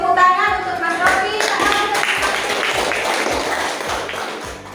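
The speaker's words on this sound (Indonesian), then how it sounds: "Tepuk tangan untuk Mas Rofi." Classroom clapping for a student, a group of hands applauding together fairly loudly over the full stretch, with a teacher's and children's voices talking over it at the start.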